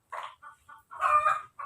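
Short bursts of egg-laying hen clucking, a few separate calls with brief gaps, one louder fuller squawk in the middle, close and clear with no talking.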